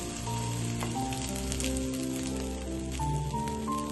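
Bread slices frying in butter on a hot tawa for a homemade bread pizza, a steady close sizzle with crackling pops throughout, loud and even, with no talk.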